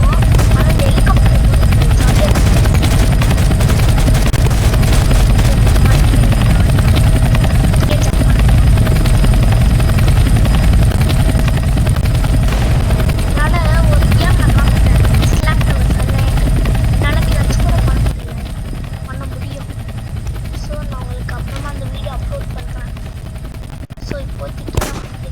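A helicopter in a ground war video game, its steady loud rotor drone running continuously alongside bursts of gunfire and machine-gun fire, dropping to a quieter level near the end.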